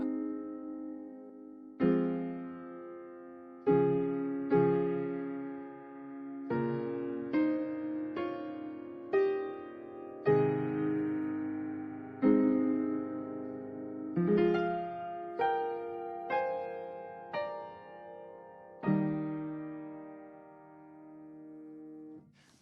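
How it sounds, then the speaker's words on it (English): Piano plays the Holy Grail motif as a slow sequence of sustained chords and single notes, each struck clearly and left to ring and decay, with no talking. "What I just played on the piano was the Holy Grail motif"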